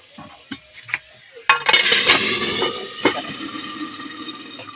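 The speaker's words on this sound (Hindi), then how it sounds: "तो फोरन मेरा भुंजा गया है, तब हम डाल देते हैं कढ़ाई में छनका।" A hot tempering of garlic and chilli hits greens in a wok with a sudden loud sizzle that then settles into steady crackling frying, after a few quiet clinks beforehand.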